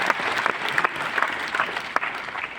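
Audience applause at a business lifestyle talk, a brief burst of loud, dense clapping from a crowd, steady for a few seconds.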